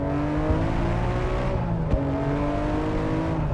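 Nissan Skyline GT-R engine pulling hard past a camper, heard from inside the cabin as a steady loud drone that rises in pitch, dips at a quick gear shift, then climbs again.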